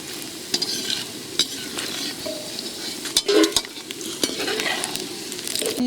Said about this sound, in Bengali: সুন্দর করে পাঁপড় ভাজছে